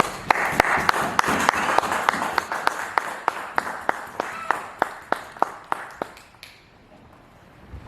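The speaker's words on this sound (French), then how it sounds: "On acclame très fort Jésus" A church congregation clapping loudly in a steady, even rhythm to acclaim Jesus during a Sunday service, the beats continuing for several seconds before stopping abruptly, with no clear cheering.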